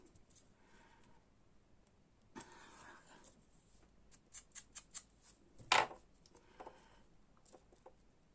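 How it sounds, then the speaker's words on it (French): Scissors snipping paper while making a handmade card, a few quick close clicks and cuts spread over several seconds, with a louder rustle in between and faint speech at times. "Mon ciseau à colle."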